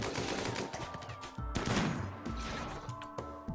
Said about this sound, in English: A couple other people can shoot at him now.